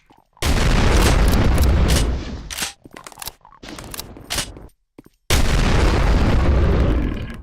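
Rocket explosions in Doom played through GZDoom with the High Noon Drifter mod, two loud, close booming blasts with long rumbling tails separated by shorter thuds and bursts.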